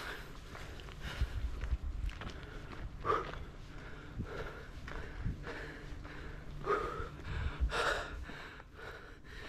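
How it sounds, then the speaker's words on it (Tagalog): Repeated heavy breaths and gasps, close and rhythmic, mixed with soft footsteps as someone pants while climbing a mountain in Skagway, Alaska. "Hingal na."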